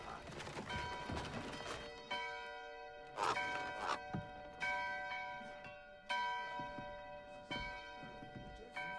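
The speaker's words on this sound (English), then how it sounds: "It's a very high-pitched bell, really" In Diablo IV, a high-pitched bell rings out repeatedly in loud, clanging strikes about every second or two, each with a long shimmering decay, mixed with metallic mechanism clatter from the game.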